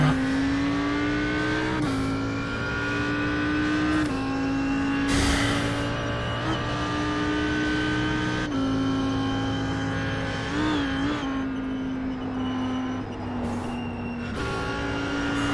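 Audi R8 GT3 race car engine in iRacing at the Nurburgring Combined circuit, droning loudly and steadily at high revs with several brief dips and rises as gears shift, no talking over it.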